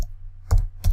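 Two crisp keystrokes on a computer keyboard, tab key presses while typing in a word processor, each a short close click about a third of a second apart in a quiet room.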